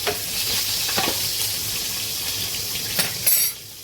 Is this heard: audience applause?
no